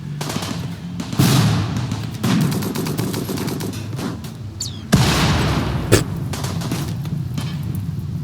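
Rapid volleys of heavy explosions from a Doomsday rocket launcher in Rimworld, dense booming blasts with sharp bursts near one, two and five seconds and continuous rumbling impacts throughout, loud and without talk.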